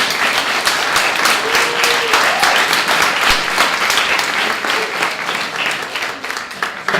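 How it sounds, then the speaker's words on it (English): An audience at an evening international relations talk applauds steadily, dense clapping sustained for several seconds and tapering slightly toward the end, with no speech over it. "So let's give them a big round of applause for coming out today."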